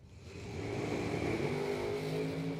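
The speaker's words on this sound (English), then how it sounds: "Hear him whomping the throttle down there" A ProCharger-equipped drag race car revs hard at the starting line of a drag strip event, a loud, steady, sustained engine roar that swells in the first half second and holds with distant crowd ambience.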